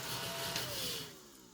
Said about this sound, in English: we'll get my little vacuum out here